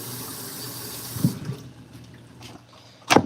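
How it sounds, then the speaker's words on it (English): Tap water runs into a kitchen sink while something is rinsed, a steady low rush with a few clunks and splashes, the last burst loudest near the end. "Let me rinse that off"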